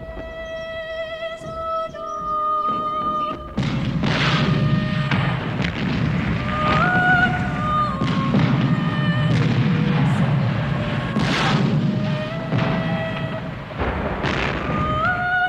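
Heavy artillery shelling in wartime: a deep continuous rumble of explosions with repeated sharp booms at irregular intervals, loud and sustained, with whistling tones gliding over the barrage.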